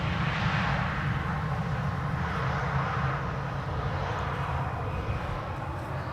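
KLM flight 1762 arriving at Amsterdam Schiphol from Bremen, a steady broad jet-airliner roar rumbling at moderate distance without a break.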